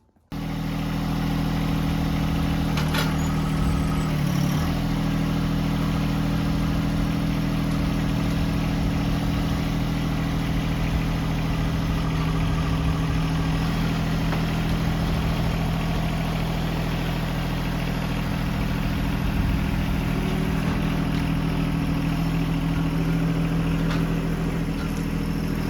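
A tractor engine idles steadily beside a trailer, a continuous low mechanical rumble with a firm bass hum, close and fairly loud, running without a break and with no talk over it.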